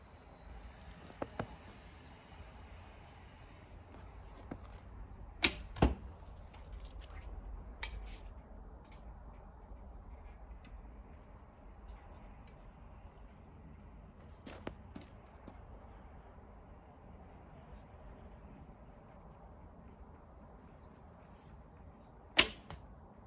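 An Assyrian bow shoots arrows in a few quiet string twangs with sharp short snaps spaced several seconds apart, close but soft over a low background hum, with no talking.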